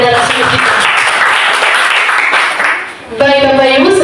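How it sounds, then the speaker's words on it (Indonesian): An audience applauds a speaker at a seminar, dense clapping sustained for about three seconds before a voice starts talking. "kita kembali berikan tepuk tangan kepada narasumber kita"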